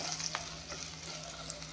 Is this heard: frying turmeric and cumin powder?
yes